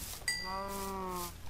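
A cow moos in the video game Minecraft: a single faint, drawn-out, tonal moo lasting about a second against quiet background noise.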